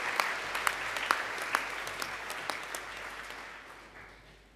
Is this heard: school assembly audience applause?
yes